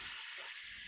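A short, sharp snake-like hiss, a sustained breathy sss lasting under a second, loud and alone, likely a voice imitating the hiss.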